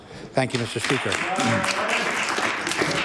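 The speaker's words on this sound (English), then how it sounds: "everyone to join me in giving the Tracadie United Baptist Auxiliary, members of one of the oldest African Nova Scotia churches in the province, a round of applause" Applause in the House of Assembly honouring a church auxiliary, clapping and desk sounds running under a member speaking briefly.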